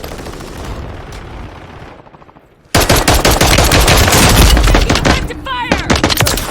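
Loud, dense bursts of automatic gunfire in a Call of Duty match with a gold X16 pistol loadout, rapid shots cracking close by after a quieter stretch.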